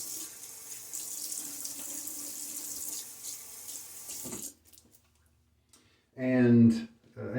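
Tap water runs steadily into a sink to soak a shaving brush for wet shaving, a continuous hiss lasting about four seconds that then stops, followed by a brief burst of speech.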